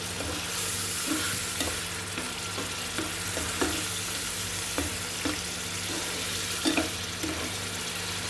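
Spice masala with tomatoes being stir-fried for a koi fish curry, a steady close sizzle with spoon scrapes and clinks spread evenly throughout, no voices.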